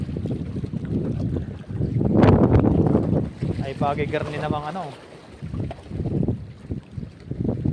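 Strong cold night wind buffets the microphone on a fishing boat, a loud gusting roar that swells and dips while someone talks over it.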